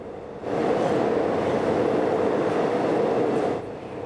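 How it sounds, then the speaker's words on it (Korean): An old Line 1 subway train rolls into a station and carries up through a short ventilation shaft from the tunnel, a steady loud rumble that swells in, holds for about three seconds and then drops away. "터널과 환기구 사이 거리가 짧아 지하철 들어오는 소리가 그대로 전해집니다."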